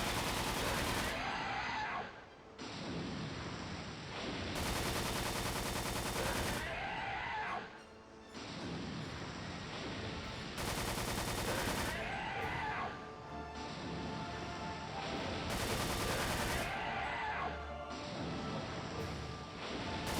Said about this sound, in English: Just me shooting it with a minigun over and over again